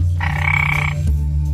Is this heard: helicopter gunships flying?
no